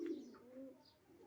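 Pigeons at a pigeon house give a single soft, low coo, faint and brief against a quiet background.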